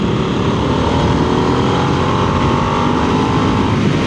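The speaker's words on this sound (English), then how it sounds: "Yeah, it's got some, it's got some revs in it basically, hasn't it?" A Harley-Davidson Nightster motorcycle on a test ride at the 2024 Adventure Bike Rider festival drones with a loud, steady engine note and constant wind rush, with no talking.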